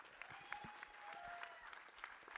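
Audience applause for a speaker on a business influencer expert panel, quiet and distant, a steady patter of many hands through the whole stretch with a few sharper claps standing out.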